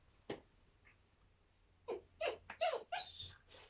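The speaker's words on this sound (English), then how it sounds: "You can hear the noise because I just have my puppy here with me." A puppy makes small whimpering, snuffling noises close by, a couple of isolated squeaks followed by a quick cluster of higher whines, quiet overall with no talking.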